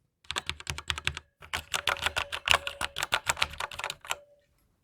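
Rapid, uneven clacking of keys typed on a Corsair Strafe RGB MK.2 mechanical keyboard, fairly close and steady for several seconds with a short pause near the start, and no voices.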